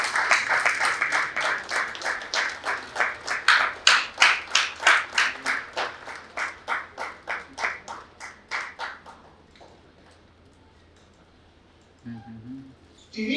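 Rhythmic clapping in near-unison from an audience at an award function in Jamnagar welcoming a guest. Around two dozen sharp, evenly spaced claps build, then thin out and stop, followed by a quieter stretch with faint stirring.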